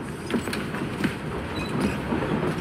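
Steam-era train locomotive in the video game Assassin's Creed Syndicate, set in London, giving a steady rolling rumble with faint creaks and rhythmic clicks of wheels on track, close and continuous with no talk.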